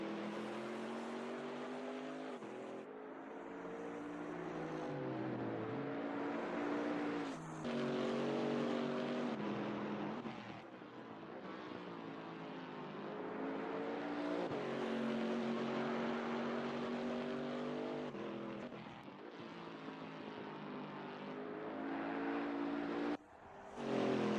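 GT3 race cars circle the Zolder circuit in a racing game, with a steady, close engine roar whose pitch climbs and dips through gear changes and brief lifts, continuing without a break.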